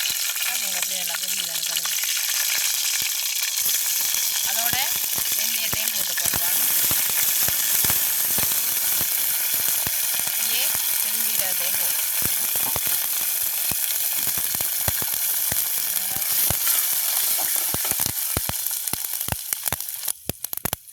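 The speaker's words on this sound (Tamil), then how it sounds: "எண்ணெய் நல்லா சூடாகிட்டு நாங்கள் கடுகை போடுவோம்" Mustard seeds drop into hot oil and sputter with a dense, crackling sizzle that runs the whole time, dotted with rapid popping clicks and occasional pan scrapes.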